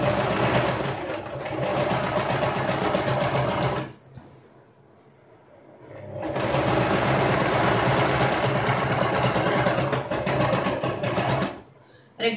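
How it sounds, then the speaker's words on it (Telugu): A sewing machine stitches fabric for a long flared dress in two loud, rapid, rattling runs separated by a short pause, with a voice speaking in the background. "రెగ్యులర్ మెషిన్లో కూడా ఇలాగే కుట్టాలండి"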